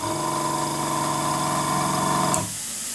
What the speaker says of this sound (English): With this particular model, you'll hear that compressor just cutting in and out